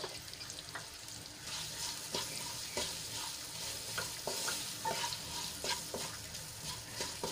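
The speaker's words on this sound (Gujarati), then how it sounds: "હળદર અને મીઠું એડ કર્યા બાદ આપણે એને સારી રીતે મિક્સ કરી લઈશું" Chili and gram-flour curry with turmeric and salt being stirred in a pan: a steady soft sizzle with repeated scraping clicks from the spoon, close and alone without talk.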